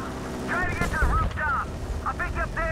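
Gunfire and explosions rattle through a Battlefield Bad Company 2 firefight in a steady stream of bursts, heard under excited shouting from a player.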